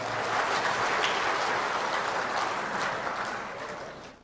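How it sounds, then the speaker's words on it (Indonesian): Applause from a large audience at a national work meeting of Indonesia's land and spatial planning ministry, a dense, steady clapping that fills the hall and tapers off at the end, with no talking over it. "tepuk tangan untuk Papua juga"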